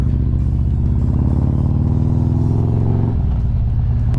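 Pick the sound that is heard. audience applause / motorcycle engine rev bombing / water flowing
motorcycle engine rev bombing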